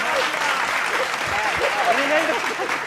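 A crowd at a political poetry gathering claps for a poet's verse, a brief burst of steady applause with a voice speaking over it.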